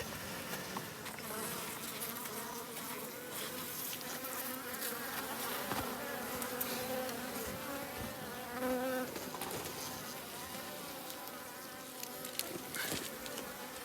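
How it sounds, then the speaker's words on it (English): Honeybees buzzing in a hive fitted with winter top insulation, a dense, continuous droning hum at low level, with occasional small knocks and no talking. "And now the bees are sealed in."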